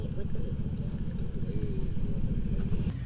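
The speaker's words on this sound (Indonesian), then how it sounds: "Oh, nggak semua motor bisa nanjak kali ya." Motorcycles climb a steep mountain road up to the Kawah Putih crater, their engines a steady low rumble close by while people talk over it.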